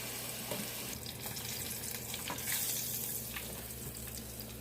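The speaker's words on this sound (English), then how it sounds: "Take them out because they sound like they is sizzling." Continuous crackling sizzle of salmon frying in a pan, with scattered pops and a low steady hum underneath.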